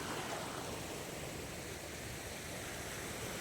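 Swollen river running fast after heavy rain floods nearby fields, a dense unbroken roar of rushing water, steady and close, with no voices.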